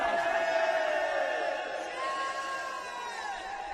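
A large crowd at a political rally in Azad Kashmir roaring and chanting slogans together, a dense sustained wash of voices that swells and dips slightly, filling the space throughout.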